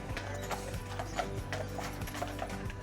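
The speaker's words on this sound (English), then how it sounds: "I'm just sitting here and there's horse and carriages coming by." Horse-drawn carriages on Mackinac Island clip-clop past in a steady rhythmic trot of hooves on the road, moderately near, with a faint background hum and no talk.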